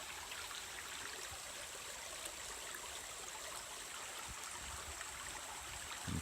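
A creek flows beside a campsite, a continuous soft rush and trickle of water, steady and unbroken, with no voices.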